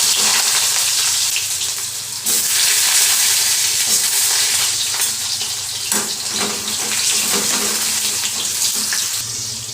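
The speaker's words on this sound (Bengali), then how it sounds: "এবার আলুগুলো ভেজে দিচ্ছি" Potatoes fry in hot oil in a pan with dry red chillies and bay leaves, a loud steady sizzle that runs nearly unbroken, with occasional stirring scrapes and a brief dip partway through.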